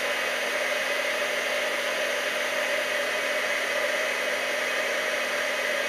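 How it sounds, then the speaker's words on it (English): A heat gun blows steadily at close range, a constant loud whooshing hiss with a faint whine, held in place while melting an ice cream cone decoration. "You don't need to wave the heat gun around, just hold it steady, and you'll start to see, once it heats up, it's just going to change and melt"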